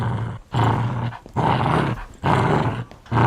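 A dog growls in deep, rough bursts, four or five long rumbling snarls with short pauses between, close and fairly loud, with no one talking.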